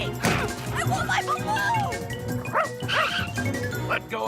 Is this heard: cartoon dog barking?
yes